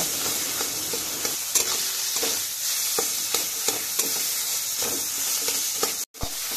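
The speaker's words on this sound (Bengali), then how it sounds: "এবার বেশ ভালো করে খুন্তির সাহায্যে জিনিসটাকে ভালো করে এখানে ভাজা ভাজা করে নেব।" Ground colocasia leaf paste fries in hot oil while a spatula stirs it. A loud, constant sizzle runs under regular scraping strokes, with a short gap just before the end.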